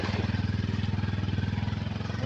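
A motorcycle engine chugs steadily while riding along a rough rural road, a loud, near, pulsing drone with rhythmic bumps and rattles throughout.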